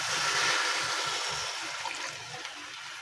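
Water poured into a cooking pot while making a banana-blossom dish with fish bagoong, a steady bright splashing pour that starts strong and tapers slightly over a few seconds, close by and alone.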